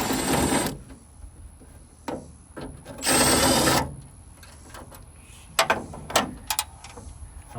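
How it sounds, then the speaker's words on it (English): A broken coolant reservoir being pulled off a 1982 Oldsmobile Cutlass Supreme, with scattered plastic clunks, scrapes and rattles, a few louder bursts separated by quiet gaps, close by. "I'm going to go ahead and pull off the coolant reservoir that I broke."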